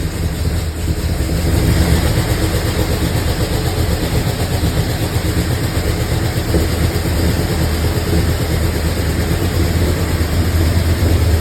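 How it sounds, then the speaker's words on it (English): A Ford F250 fuel pump, switched on manually, runs as a loud, steady, continuous drone with a constant hum and no pauses, and no one speaks over it. "So we figured out that you could actually turn the fuel pump on manually,"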